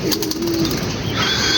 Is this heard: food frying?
no